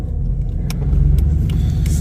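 Rumbling idle of a Porsche 911 964 converted to RAUH-Welt BEGRIFF (RWB) spec, a deep, steady low-end engine drone up close with a few faint clicks and no talking.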